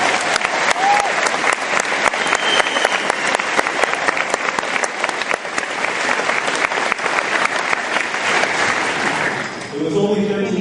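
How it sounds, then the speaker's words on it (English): A large crowd at the Riverdale High School class of 2011 commencement ceremony applauds in a loud, sustained wash of clapping that holds steady for about ten seconds before thinning out at the end. "Please give them a warm round of applause."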